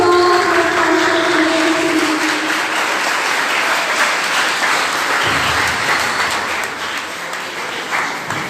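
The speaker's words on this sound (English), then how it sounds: "Give a round of applause for" A school audience at a college Defence Day celebration breaks into loud, sustained applause filling the hall, fading gradually over several seconds.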